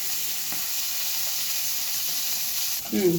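Fish frying in a pan at home gives off a steady, close, bright sizzle that runs without a break, with a brief clatter of a pan or utensil near the end. No one speaks.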